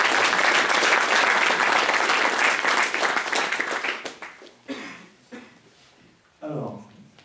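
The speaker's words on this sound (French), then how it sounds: "vous sentez le besoin d'applaudir" An audience at a web development talk bursts into loud, dense applause that fades over several seconds, leaving scattered claps and a few voices murmuring near the end.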